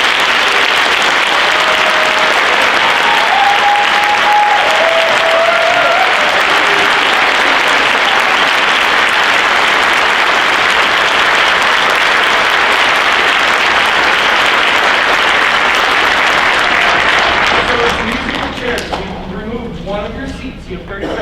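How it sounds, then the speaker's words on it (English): A large stadium crowd applauding, a loud, dense, sustained roar of clapping with a few whistles that carries on for a long stretch before fading as voices begin to talk. "Can we have one more round of applause,"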